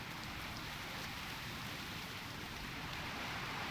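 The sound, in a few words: rain in video game Turtle WoW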